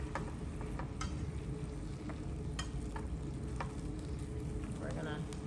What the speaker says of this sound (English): I always take a piece of vegetable and swirl around on the inside